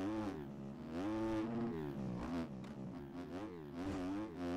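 A video-game dirt bike engine in MX Bikes buzzes and revs continuously on a motocross track, its pitch wavering up and down with throttle blips, steady and fairly faint with no voices.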